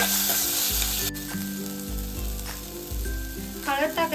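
Ginger, garlic, green chili and coriander paste sizzles steadily in hot oil in a pan, with close, continuous frying crackle and occasional soft scraping of a spoon as it is stirred.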